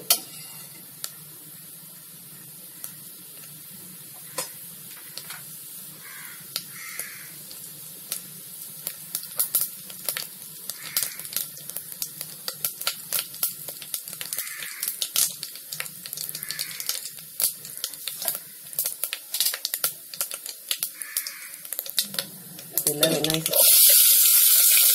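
Cinnamon, bay leaf, cloves, star anise and fennel fry in oil, sizzling and popping irregularly with a low background hum, then onion goes in near the end, bringing a sudden loud surge of hissing.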